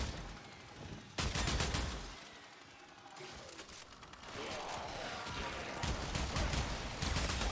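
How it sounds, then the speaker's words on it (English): Kuva Kohm rapid-fire shotgun in the game Warframe, blasting in dense crackling bursts that start abruptly and keep coming with short gaps, loud over game effects. "It's like a rapid-fire shotgun that gets faster the more that you shoot it."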